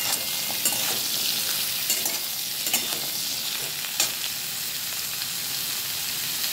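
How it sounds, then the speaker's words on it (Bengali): Pointed gourd (parwal) fries in hot oil with salt and turmeric, making a bright, continuous sizzle with occasional crackles and stirring scrapes close by. "ওই তেলের মধ্যে দিয়ে দিচ্ছি পটলগুলো"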